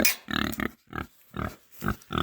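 A newly arrived pig on a small farm grunts in a steady series of short, close, fairly loud bursts separated by brief pauses, with no talking over it.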